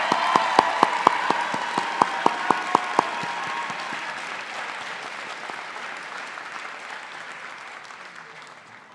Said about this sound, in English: please give another round of applause for the MENA graduating class of